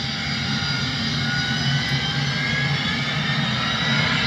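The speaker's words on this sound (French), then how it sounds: "Avion décoller." An airplane taking off, heard as a steady, loud, broadband jet engine roar that holds constant throughout with no voices.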